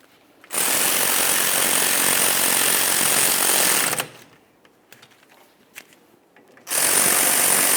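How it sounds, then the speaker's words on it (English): Power tool whirring loudly as it runs down the caliper slider mounting bolts on a 2004-2008 Ford F-150 during a rear wheel bearing job, two sustained bursts with a quieter gap of small clicks between them. "once you have them started in, snug them up and torque them to 20 foot-pounds."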